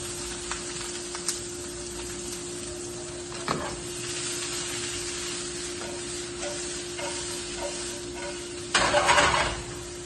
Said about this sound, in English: The first thing we're gonna do is warm up a pan with some oil. And we're gonna add our onions first.